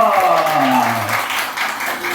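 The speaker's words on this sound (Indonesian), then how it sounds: "Kasih tepuk tangan dong." Audience applause fills the background as a voice speaks over it, with a tone sliding downward through the clapping.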